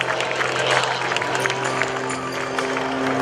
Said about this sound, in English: A huge round of applause for Sean D. Tucker.